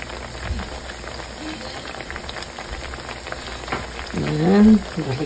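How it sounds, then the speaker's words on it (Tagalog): Heavy rain falls in a constant dense hiss with scattered drips, and a voice briefly sounds near the end. "Malakas ang ulan."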